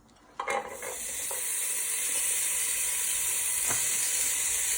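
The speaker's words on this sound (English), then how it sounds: "fry your mince in your pan for a few minutes and break it up in the pan with your wooden spoon" Mince frying in a pan for a cottage pie, with a steady loud sizzle that bursts in as the meat hits the hot pan and persists, punctuated by occasional scraping from a wooden spoon breaking it up.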